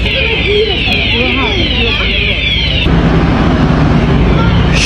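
A police car siren wails in a warbling sweep outdoors, steady and fairly loud over traffic noise, as another patrol car arrives at a scene already crowded with police.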